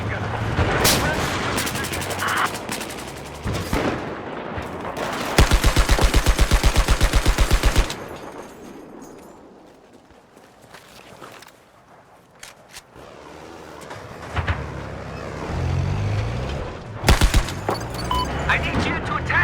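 Rapid automatic gunfire from a video game firefight, a dense burst of evenly spaced shots in the middle with scattered single shots and booms before and after, loud and close, with game voices talking at times.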